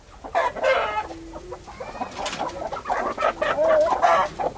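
Hens of a crossbred double-bodied Bapatla fowl, about ten months old, cluck busily while a rooster crows, loud and close, with overlapping calls filling the whole stretch.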